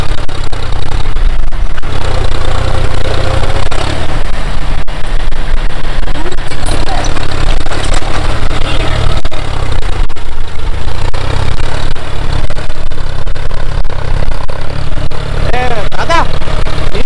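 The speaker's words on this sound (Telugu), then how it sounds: "ఆ ట్రాక్టర్ ఎట్లా దున్నుతుందో చూపిస్తాను." A tractor ploughs a field on a farm, its engine a loud, continuous low drone close by, while a person talks over it throughout.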